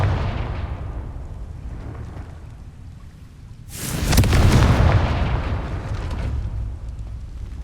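A Confringo blasting spell explodes in Hogwarts Legacy, a sudden loud burst midway that booms and rumbles away over a low steady background hum.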